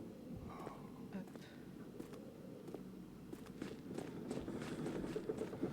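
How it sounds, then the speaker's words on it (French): Footsteps in the horror video game Amnesia: The Dark Descent, a steady run of soft thuds and scuffs from somewhere off in the dark, continuous over a low ambient rumble. "C'est quoi ces bruits de pas? C'est pas moi ça."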